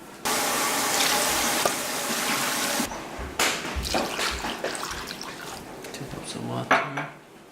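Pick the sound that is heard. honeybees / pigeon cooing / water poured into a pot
water poured into a pot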